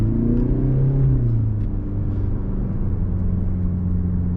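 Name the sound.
2022 Mercedes-Benz C-Class accelerating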